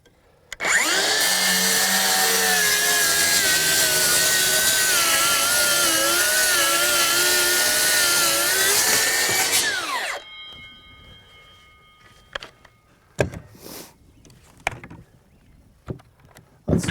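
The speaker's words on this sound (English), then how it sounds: "Now we just have a 2x6 and 1/2 inch OSB underneath. We're going to start with the Blade Right with the new 9 volt." A DEWALT FlexVolt DCS578 Blade Right 7-1/4 inch circular saw screams loudly through a 2x6 over half-inch OSB for about nine seconds, then winds down, followed by scattered clunks and handling noises.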